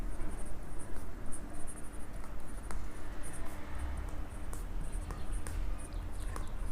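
Marker scratching across a board during a classroom lecture, a steady close scraping and squeaking texture of strokes for several seconds, with no one speaking.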